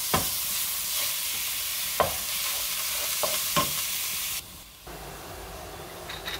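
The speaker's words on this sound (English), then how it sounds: "This is the ground turkey. So I'm just gonna cook this for a few minutes." Ground turkey fries in a little oil in a pot with a loud, steady hiss and sizzle, broken by a few stirring knocks, before the sizzle suddenly drops to a softer level.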